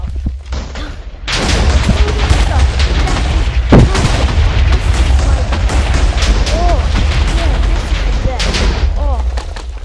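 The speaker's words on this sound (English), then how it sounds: "the creeper gun has a special effect" Creeper gun from a Minecraft mod firing in the video game, producing rapid booming blasts and explosion-like thuds that pile up into a loud continuous barrage.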